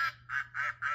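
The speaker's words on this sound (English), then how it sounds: "Can you press the duck sound here?" A cartoonish duck quack sound effect plays four quick nasal quacks in an even rhythm, close and clear with nothing else around them.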